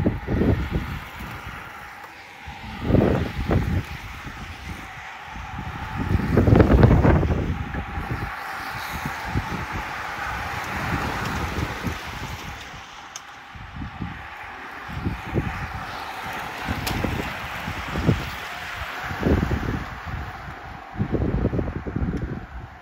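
Strong gusting wind outdoors at a sailing regatta on open water, buffeting roars and rumbles surging and fading over about twenty seconds, with occasional louder blasts and no clear talk.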